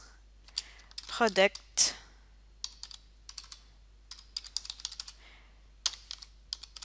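Quick, close keyboard typing, with bursts of crisp key clicks spread across the clip. A voice speaks briefly near the start.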